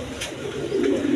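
A large pigeon gives a low, throaty coo at close range. The coo is short and has no talk over it.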